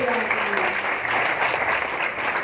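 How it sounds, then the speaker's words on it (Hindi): A congregation claps hands together loudly at an Easter prayer service, a dense, steady wash of applause running throughout with singing or voices mixed underneath. "दोनों हाथों को मिलाकर जोरदार तालियां बजाएंगे"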